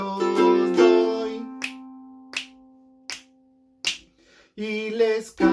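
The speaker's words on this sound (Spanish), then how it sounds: "chasquiditos doy" Four sharp, evenly spaced finger snaps fall in a pause between stretches of sung melody during a remote first-grade music lesson, with the singing voice before and after them.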